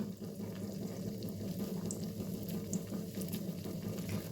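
Shaped snack dough dropped into hot oil bubbles and fizzes in a soft, continuous, fairly faint sizzle, with no voices.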